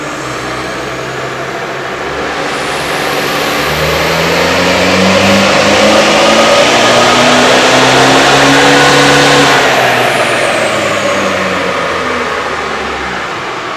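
A Toyota N80 or Nissan NP300 truck engine on a dyno climbs through a long, loud rev run, its pitch rising steadily and then holding near the top before easing off, with a droning whine over it.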